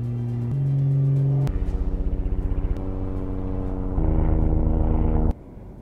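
The S4 Air Taxi 2.0, an electric VTOL aircraft with six tilting propellers, flies past with a steady whirring hum whose pitch steps up and down in stages, fairly smooth and unbroken by talk.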